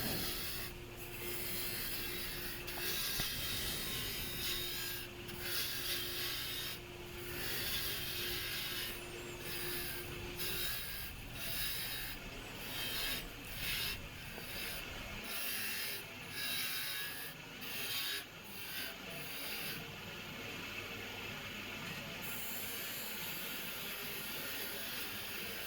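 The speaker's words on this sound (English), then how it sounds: "I bumped the lathe speed up to about 1800, and I'm using the same spindle gouge to get it shaped" A spindle gouge shapes a wooden angel ornament on a lathe spinning at about 1800 rpm, giving a continuous rasping, rubbing scrape with repeated short cuts and a steady motor hum underneath, fairly quiet and close.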